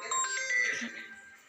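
A phone ringtone plays briefly, a bright electronic melody at moderate volume with no voices.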